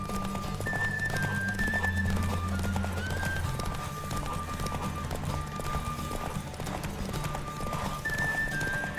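Fast, rhythmic hoofbeats of a galloping horse in a race in the video game The Witcher 3, with an occasional whinny, over steady background tones.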